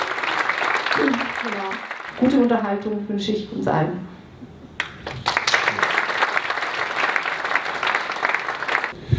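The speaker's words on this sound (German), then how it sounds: "ein kräftiger Applaus für die lange Anreise" Someone speaks German to an audience at a lecture event, and then applause for the speaker rises midway and continues as full, steady clapping to the end.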